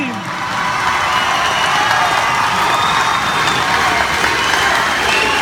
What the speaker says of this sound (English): Kenny, Israel, Lewis, Nico, Team Nico, give them a big round of applause.